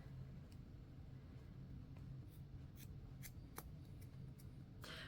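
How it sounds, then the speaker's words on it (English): Scissors snip loop yarn in a few quiet, sharp cuts spaced irregularly, the last one a quick double snip, faint against a steady low room rumble. "I'm gonna grab my scissors. I'm gonna go ahead and just trim that."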